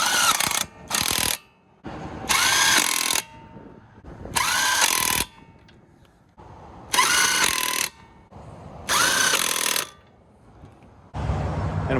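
A power impact tool runs in repeated ratcheting bursts, about six loud spurts separated by short pauses, as lug nuts are fastened onto a car wheel during brake pad and rotor replacement.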